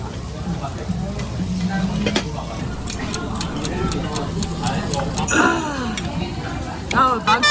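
Boiling doenjang stew with zucchini bubbles and clinks as it is stirred in a restaurant, with a spoon scraping and tapping the pot, while people chat nearby throughout.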